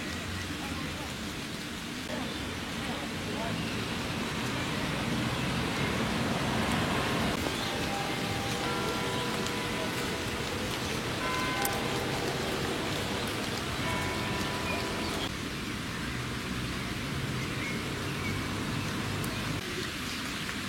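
Heavy rain pours steadily onto a street in Mulhouse near the theatre and fine arts museum, a dense, loud, unbroken wash of drops with faint tonal background sounds drifting in partway through.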